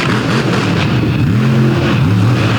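Monster truck racing in an outlaw drag event at Canfield, Ohio, its engine sounding not fully healthy: a loud, rough roar with pitch sweeping up and down as the throttle opens and closes.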